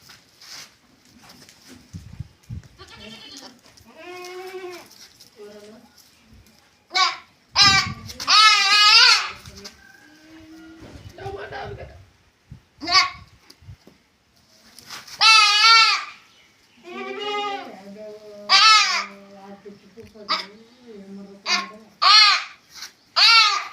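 Goat kids bleating repeatedly on a farm, loud, close wavering cries in irregular bursts with short pauses between them.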